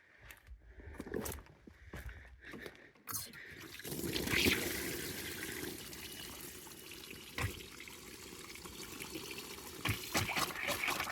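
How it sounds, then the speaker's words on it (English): Water runs from an off-grid cabin's lake-fed water line after a stop valve is turned on, starting with a few clunks before settling into a steady rushing trickle close by, with no talk over it. "I will run some water to make sure."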